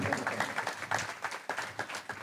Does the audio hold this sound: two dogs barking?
no